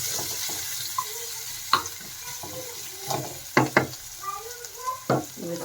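Boiled potatoes being stirred in a frying pan for homemade veg tikki burger patties, with a soft steady sizzle and a few sharp scraping clinks of the spoon against the pan, close and moderately quiet.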